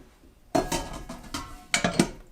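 A stainless steel 8-quart inner pot from an Instant Pot Duo Nova being handled, giving a few close metallic clanks and scrapes in two bursts after a quiet start, with no talk.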